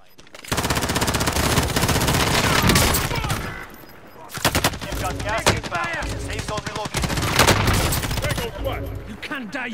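Rapid automatic gunfire bursts in a Warzone match, dense volleys of shots with a short lull before firing resumes, with players talking over the action.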